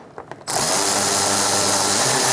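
A power ratchet tightens radiator bolts on a 2014-2019 Kia Soul 1.6L: a few faint clicks, then a loud, continuous whirring drive that runs steadily close by without pause.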